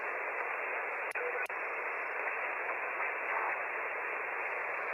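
Steady band-limited hiss of ham radio receiver static on a quiet 15 metre band through a homemade squeegee antenna, constant and moderately loud, broken by two brief clicks near the start.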